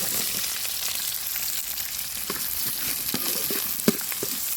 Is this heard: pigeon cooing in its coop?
no